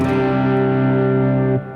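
An electric guitar plays through a Joyo pedal on its first boost stage, with a compressor and reverb also in the chain. A single sustained chord rings loud and steady, then cuts off near the end and leaves a reverb tail.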